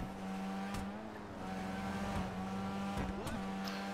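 A steady engine drone with a strong harmonic hum, punctuated by a few sharp bursts like shifts or revs, continuous throughout, from the Annis Savestra, a Mazda RX-3-style car in GTA 5 Online.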